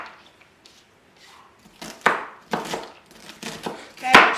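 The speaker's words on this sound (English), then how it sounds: "I like to go back and cut it just to make sure everything's good, so you get nice small pieces" A knife chops food finely on a cutting board in a kitchen, with a run of sharp, close, evenly spaced knocks that build after a quiet start, with no talking.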